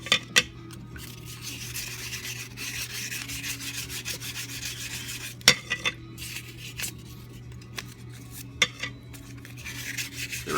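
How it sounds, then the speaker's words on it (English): Steady back-and-forth rubbing of 1000 grit wet sandpaper on a part during a Norton Commando 750 restoration, close and continuous with a few sharper clicks and knocks scattered throughout, no voices. "I'm going to use that 1000 grit paper and just wet sand it up a little bit"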